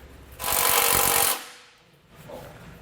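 Power tool running a bolt down into a Blue Ox base plate on a 2011 Jeep Patriot: one loud, rattling burst of about a second, then a faint pause and a brief softer noise.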